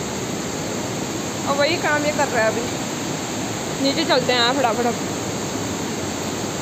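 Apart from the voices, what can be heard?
water falling and splashing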